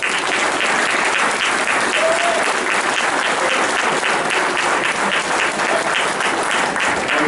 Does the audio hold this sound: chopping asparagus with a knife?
no